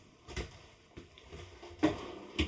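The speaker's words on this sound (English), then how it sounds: "You have 3 drawers that open up" Several short wooden scrapes and knocks of dovetailed drawers in a 2025 Brinkley RV sliding open and shut, repeated a few times close by in a quiet room.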